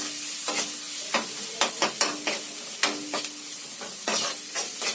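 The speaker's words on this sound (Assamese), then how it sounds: "পিছত অলপ ভাজি ল'ম।" Ground spice paste with turmeric sizzling in a pan for Assamese-style pork curry, a steady frying hiss broken by repeated scraping strokes of a spoon stirring at an irregular rhythm, close and clear.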